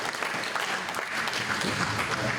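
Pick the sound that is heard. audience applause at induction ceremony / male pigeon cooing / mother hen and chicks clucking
audience applause at induction ceremony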